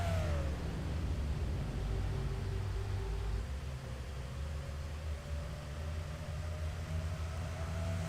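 Stock cars in a NASCAR racing game, 2007 DuPont 500, roar past down the front stretch in a steady loud engine drone, with a pitch sweeping down as one car passes close by.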